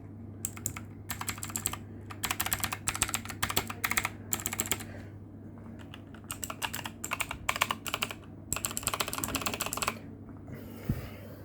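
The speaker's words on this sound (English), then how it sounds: "We're gonna take a look for all the mechanical keyboard nerds out there. Just listen," Fingers type on a cheap mechanical computer keyboard in a home studio, crisp clacking keystrokes in bursts separated by brief pauses, close and alone over a steady low electrical hum.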